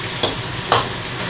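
Ingredients for a Sichuan braise stir-fried in a wok, a soft continuous sizzle broken by two brief scraping stir strokes, close and alone.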